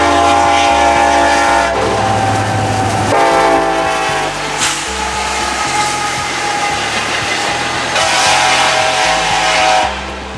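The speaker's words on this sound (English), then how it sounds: "every train horn you'll hear out on the rails today is from Nathan" Loud, sustained blasts of a multi-chime Nathan Airchime train horn, sounding in repeated long and short bursts over steady rumbling rail noise, close by.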